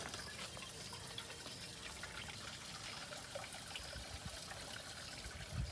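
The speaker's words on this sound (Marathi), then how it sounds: "आता आपल्या इकडं पाणी आहे आणि परेश मस्त पाणी घेतो आहे आपल्यासाठी." Water trickles and pours quietly into a container, a soft, continuous dribble heard faintly and close by.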